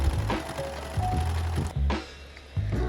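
A serger sewing machine stitches fabric for a kimono-style cap sleeve blouse, giving a loud, steady mechanical whir with rhythmic thumps that pauses briefly and restarts, heard alone without talk.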